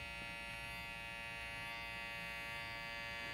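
An electric hair trimmer buzzes steadily and close while cutting along a boy's hairline, a continuous quiet whine with no voices.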